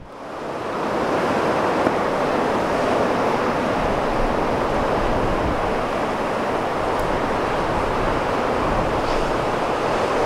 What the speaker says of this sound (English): There's some waves, but it's still really high on the tide.